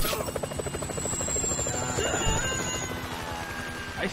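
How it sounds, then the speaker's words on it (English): Helicopter in the video game GTA V, a continuous buzzing rotor drone with a thin high whine sliding slowly downward, moderately loud with a busy, cluttered game soundscape underneath. "If I hit the chopper, everyone's gonna know we're here!"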